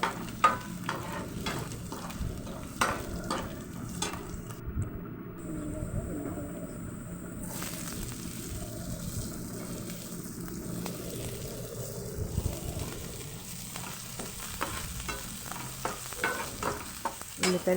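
Chopped garlic sizzles steadily in a hot pan of oil while a spoon scrapes and stirs it, with frequent light clinks and taps over the constant frying hiss.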